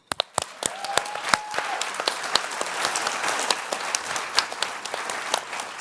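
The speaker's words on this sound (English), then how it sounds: "I'm going to ask for another round of applause for anyone who's ever been to an LGB Alliance conference" Applause from a conference audience gathered for an LGB Alliance event, starting with a few sharp separate claps and quickly building into dense, sustained clapping across the room with no speech over it.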